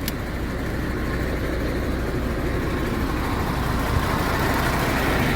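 A truck engine idles close by in a steady, loud, low rumble that holds evenly from start to finish with no change in pitch.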